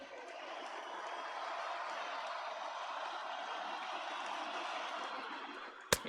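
Baseball stadium crowd of over 39,000 on their feet, cheering with a sustained, dense roar that holds steady for several seconds before a brief sharp burst at the end.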